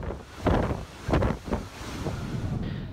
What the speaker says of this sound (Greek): ο τυφώνας Τζέμπι σαρώνει το Κιότο και την Οσάκα στην Ιαπωνία